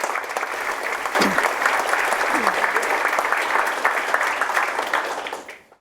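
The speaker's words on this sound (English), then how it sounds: "Shall we give them a warm round of applause?" A school open evening audience at Catmose College gives a warm round of applause for the head students, dense and loud clapping that holds steady and then fades out quickly at the end.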